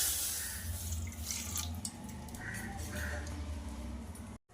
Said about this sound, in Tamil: கொஞ்சம் பாலை ஊற்றிக்கலாம்